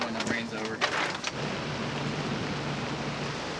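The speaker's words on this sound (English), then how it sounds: "It is pouring out right now." Pouring rain in a Florida thunderstorm hisses as a steady, close wash heard from inside a boat, with a few sharp knocks and a low hum at the start.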